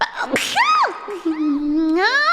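One sharp sneeze sounds close to the microphone amid a woman's high, animated voice as she chatters playfully.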